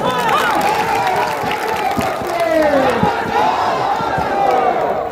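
A large crowd at a political mega-rally in Saharsa, Bihar, fills the air with a continuous roar of voices, shouts and cheering, loud and unbroken throughout with no single speaker standing out.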